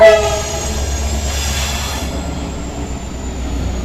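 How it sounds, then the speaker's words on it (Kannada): A nearby train opens with a brief horn blast, then a continuous low rumble of rolling wagons, with a thin wheel squeal running over it. "ಟ್ರೈನ್ ಸೌಂಡ್ ನೋಡಿ, ಟ್ರೈನ್ ಸೌಂಡ್ ಹೆಂಗ."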